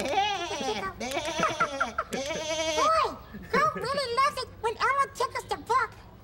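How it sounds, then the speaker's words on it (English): A goat bleats from a tickled picture book in a children's television show, with several repeated, wavering bleats following one another closely in a loud, near sequence. "Boy, goat really loves it when Elmo tickles the book."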